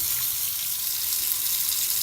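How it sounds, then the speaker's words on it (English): Water runs from a Hansgrohe mixer tap with a newly replaced temperature control, a bright steady hiss of flow striking the basin, close and continuous, with no one talking. "So I've now switched the hot water, the cold water back on."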